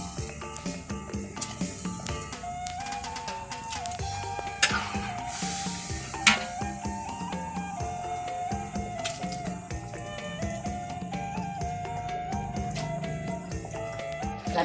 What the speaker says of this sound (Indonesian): Kalau santan sudah kental, kita masukkan dagingnya lagi